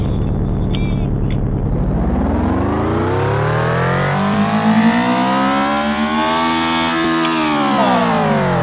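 Engine of a Honda S2000 roadster, driven with the top down in a video game, revs and climbs steadily through the gears, harmonics rising then holding high, loud and continuous throughout.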